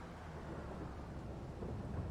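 Thunderstorm rain in the Farming Simulator 22 video game, a steady dense wash of falling rain with a low rumbling undertone, continuous and even throughout.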